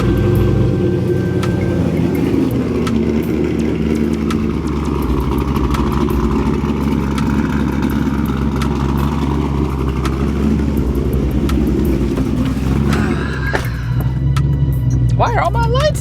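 A car engine rumbles loud and constant from inside the cabin while driving, a deep steady drone with faint tonal swells and brief higher sounds near the end.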